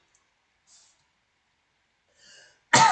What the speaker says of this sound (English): Sorry, I had to cough for a second.